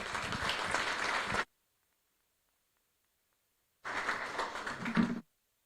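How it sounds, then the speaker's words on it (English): Audience applause at a city council meeting: a burst of many hands clapping, then silence, then a second short burst of clapping, moderately loud in a meeting room. "let's give her another round of applause"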